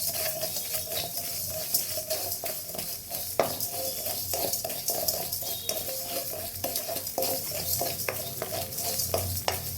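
Coarse salt dry-roasting in a pan for tomato pachadi, a continuous gritty scraping and stirring with light metallic clinks of a spoon against the pan, close and moderately quiet.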